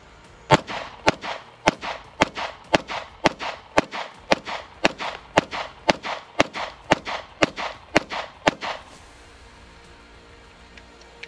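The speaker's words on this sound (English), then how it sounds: "First magazine, we're gonna shoot." A Bul Armory SAS II Ultralight pistol fires a full magazine: about sixteen loud, sharp shots in a steady, quick rhythm at close range, then quiet ambience after the last round.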